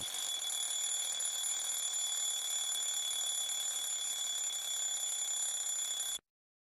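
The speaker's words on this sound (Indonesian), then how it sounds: "Ini jam alarm ya" A toy alarm clock rings with a steady, high-pitched continuous tone for about six seconds, then cuts off abruptly into silence.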